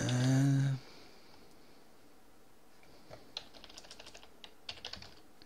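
Sparse computer-keyboard typing arrives in short irregular bursts of clicks after a brief loud hum at the start, the keystrokes light and close, with no talking.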